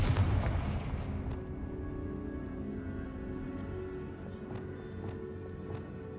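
A Confringo fire spell blasts in Hogwarts Legacy, opening with a loud booming burst that rolls into a sustained rumbling, crackling tail with a few sharp pops as it fades.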